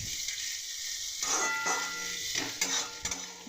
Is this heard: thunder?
no